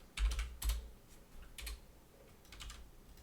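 Computer keyboard typing up close, a few quick clustered keystrokes separated by short pauses, fairly quiet and alone.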